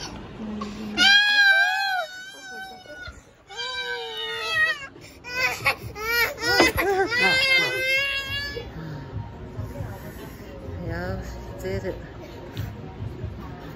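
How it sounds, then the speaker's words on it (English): A baby girl screams and cries hard while getting her ears pierced, with loud wailing bursts in the first half that fade to whimpering sobs, and adults talking over and between the cries. "She screams so hard, y'all."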